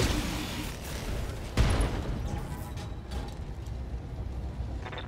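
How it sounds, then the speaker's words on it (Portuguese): Mech weapon fire in the Battletech video game, from a Highlander mech: one sharp, loud blast midway through, set against a steady low game rumble. "Vou tentar dar um tiro controlado."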